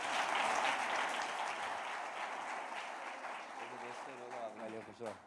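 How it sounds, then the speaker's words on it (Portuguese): Church congregation applauding during a celebration service, a broad wash of clapping that gradually thins, with voices calling out and talking over it toward the end. "Pode aplaudir Jesus pela vida do Henrique?"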